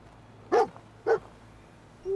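Two short, sharp dog barks from a companion dog in Fallout 4, spaced about half a second apart, fairly close and alone against a quiet background.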